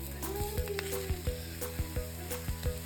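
A PavBhaji masala paratha sizzles steadily on a hot pan over a medium gas flame, with a constant frying hiss broken by repeated soft taps and scrapes.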